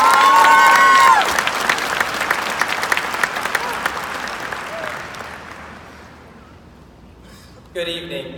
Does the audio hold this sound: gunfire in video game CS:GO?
no